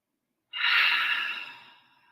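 A single deep breath pushed out through the mouth during a guided yoga session, a loud airy exhale that starts abruptly and slowly fades over about a second and a half, with no talking.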